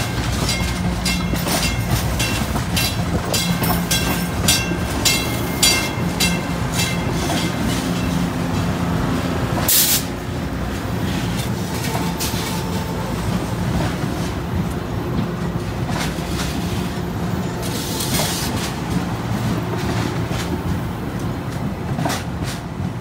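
A Metro light-rail train rumbles past up close at the Blue/Expo Line junction, with steady rhythmic clatter of wheels over rail joints, loud and continuous, with occasional metallic squeal and rattling.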